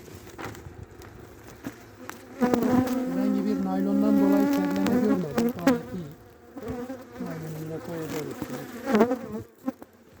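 Honeybees buzz loudly in a dense, continuous drone while a beehive is inspected and closed in late December, the swarm swelling near the ear and shifting in pitch as individual bees fly close, with no talk.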